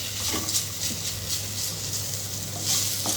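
Coriander leaves for chutney are sautéed lightly in a pan with a soft, steady sizzle and a few gentle stirring scrapes, close by and with no speech.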